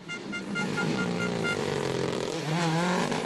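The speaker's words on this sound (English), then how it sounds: "Distinctive sounding John Cooper works." Mini John Cooper Works rally car at a WRC rally in Germany, its engine droning loud and close with harmonic whine and a rising rev near the end, with no pause.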